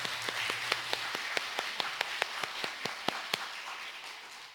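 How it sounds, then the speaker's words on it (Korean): Church congregation clapping after a choir and string ensemble, heard as faint, steady, evenly spaced claps a short distance away. "하나님께 영광의 박수 올려드리겠습니다."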